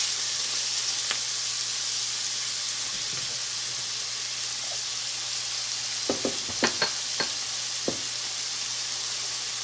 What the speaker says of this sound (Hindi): अब इसके अंदर हम कैरेट डाल रहे हैं। इसको भी अच्छी तरह से इसमें मिक्स करके स्टर फ्राई कर लेंगे।